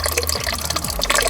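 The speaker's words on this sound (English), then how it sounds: "Just going to flush it through with some normal water" Water running and filling as a car's coolant system is flushed through with plain water, on a Polo 9N3 GTI 1.8 20VT; a steady close gush and splash with no pauses.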